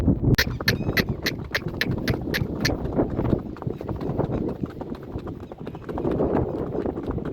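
Two mares walk on a farm, their hooves clip-clopping in a quick, even run of sharp, close knocks over the first few seconds before the sound settles into softer outdoor noise.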